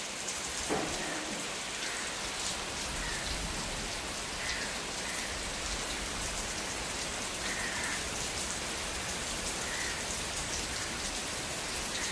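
Sudden heavy rain pours down steadily, a dense unbroken hiss of drops drumming on surfaces nearby, loud and constant throughout with no voices.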